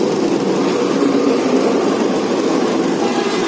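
Hyundai i10 sedan with a 1.2 engine idling, a steady low rumbling hum with even vibration, close and constant with no talk.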